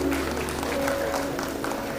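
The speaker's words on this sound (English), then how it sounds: "A big round of applause for everybody who has received the certificate." A convocation hall audience applauds certificate recipients, giving a steady, dense wash of clapping across the whole stretch, moderately loud and without any break.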